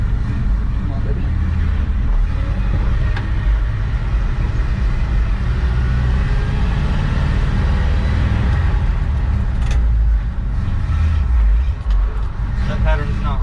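A 1966 N600 truck with newly replaced Hydrovac brakes drives down the road, its engine a loud, steady low rumble heard from inside the cab, with a few brief knocks late on.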